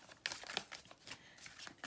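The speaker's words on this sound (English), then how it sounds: "just doing a little bit more shuffling on camera" Tarot cards shuffled by hand, close and soft, with repeated papery riffles and brushing slaps in an uneven rhythm and no talk.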